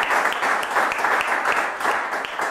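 Audience applause on a talk show, a dense, steady wash of clapping lasting a couple of seconds with no voices over it.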